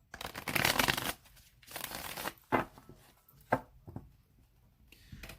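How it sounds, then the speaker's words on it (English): A deck of tarot cards being shuffled by hand, a long dense riffling burst followed by several shorter crisp flutters and taps, close and clear with no talk. "I'm going to shuffle it 3 more times"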